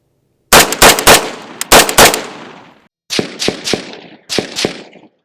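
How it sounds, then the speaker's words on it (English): Unsuppressed firearm shots ring out in bursts of two or three, each a sharp crack followed by a booming report, loud and close, with short gaps between the groups. "with the unsuppressed, there's definitely a big crack like that, then you hear the boom"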